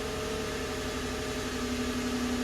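A car engine idles after a cold start, a steady, continuous drone at a constant pitch, with a faint tonal hum and no talking.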